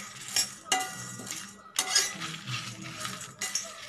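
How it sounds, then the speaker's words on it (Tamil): Fenugreek and cumin seeds being dry-roasted over medium heat in a pan, stirred with a spoon that scrapes and clinks against the metal in repeated strokes, close and moderately loud, no talking. "மிதமான சூட்ல நம்ம இதை வறுத்துக்கலாம்."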